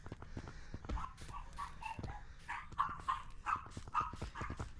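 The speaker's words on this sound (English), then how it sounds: "Shut up, fucking dog!" A dog in a virtual reality Gorilla Tag game barks and yips repeatedly, short sharp bursts in an uneven run, moderately close, with no talk over it.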